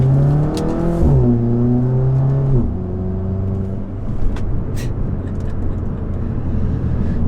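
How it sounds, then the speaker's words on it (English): A car with a ZF automatic gearbox revs, then drops pitch sharply in quick steps as it burps through upshifts, followed by a steady cruising engine drone. "you still get that burp on the upshift"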